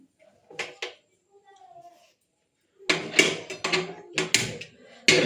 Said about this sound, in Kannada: ಕುಕ್ಕರ್ ತಗೋತಾ ಇದ್ದೀನಿ